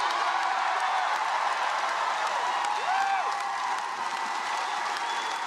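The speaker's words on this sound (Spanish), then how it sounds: "ponerse de pie y hacerle una ovación" Sustained applause from a large audience rising in a standing ovation at a political speech, a steady dense wash of clapping throughout with a brief tonal sound midway.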